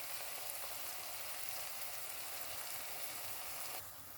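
Onions and peppers fry in olive oil in a pan, giving a faint, even sizzle that holds steady throughout and drops slightly at the end, with no voices.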